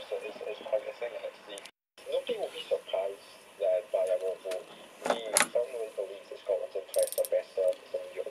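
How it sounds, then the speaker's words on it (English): A Halfords ratchet spanner clicks in the hand, giving a few short bursts of ratcheting. Someone talks over most of it, so the clicks sound quiet and brief under the speech. "The ratchet is quite smooth as well, the ratchet is."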